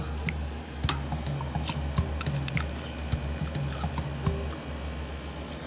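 Raw eggs are poured into pitbull dog food, producing soft wet squishes and slops with small sharp clicks and taps, fairly quiet and close over a low background hum.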